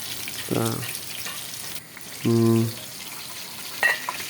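Steady oil sizzle of eggs frying in a pan, with a couple of short voiced sounds and a faint clink over the continuous crackle.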